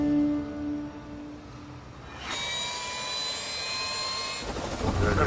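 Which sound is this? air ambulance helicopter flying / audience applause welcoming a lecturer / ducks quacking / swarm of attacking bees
air ambulance helicopter flying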